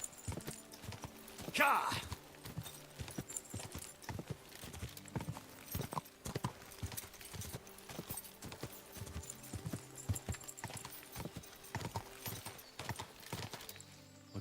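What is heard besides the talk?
horse hooves clip-clopping, from video game Kingdom Come: Deliverance II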